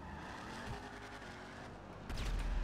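A car drives in GTA 5, its engine a steady, fairly quiet hum that swells suddenly near the end with a louder rush and tire noise.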